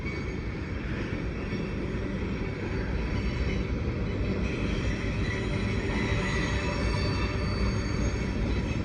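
A Union Pacific freight train rolls steadily through Cajon Pass with a rear distributed power unit. Its rumble and wheel squeal stay loud and continuous throughout, with no voices.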